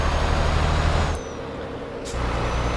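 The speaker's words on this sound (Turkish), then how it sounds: "90 hız 90'a ulaştığım zaman frene basacağım." A truck brakes hard with ABS in Euro Truck Simulator 2: the steady engine drone drops away as sharp bursts of air-brake hiss punctuate the braking, then the drone returns.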